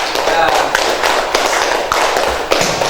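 Students in a classroom clap for a discussion group, a dense, busy patter of hands with irregular louder taps and thumps, filling the room at close range, with voices mixed in underneath.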